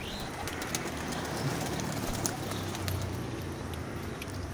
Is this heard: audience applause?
no